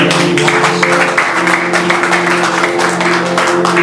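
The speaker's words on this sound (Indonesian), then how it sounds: "Mari sama-sama berikan tepuk tangan" Church congregation clapping together during a Sunday worship service, steady dense applause from many hands over sustained music or drone, fairly loud and close, with no speech.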